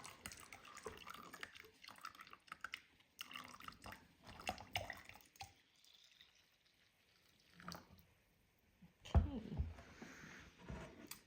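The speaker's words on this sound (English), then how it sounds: "I'm just pouring this now into this plastic bottle" A pale pinkish homemade liquid is poured into a plastic bottle. It makes quiet, intermittent splashing and dribbling in short bursts, with soft voice-like sounds in between.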